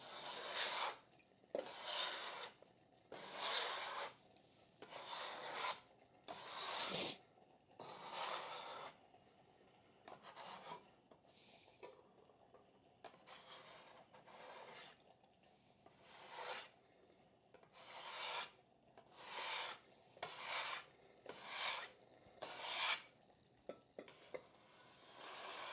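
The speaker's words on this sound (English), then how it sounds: "I'm just going to go with a food scraper. Trying to get all this shit off the work surface." A food scraper rasps repeatedly across a kitchen work surface, clearing off leftover food in a long series of short, rhythmic scraping strokes with brief pauses between them, close up and with no talking.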